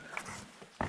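A dog makes a brief, faint whimpering yip, then a slightly louder yelp near the end, in a quiet outdoor slot canyon setting.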